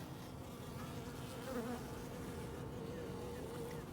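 A steady, dense buzzing drone of many honey bees in torpor, close and continuous throughout, with no voices.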